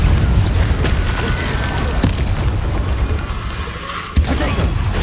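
A fiery Incendio spell in Hogwarts Legacy bursts out with a loud, sustained whooshing roar and a few sharp pops, followed by a heavy thump near the end.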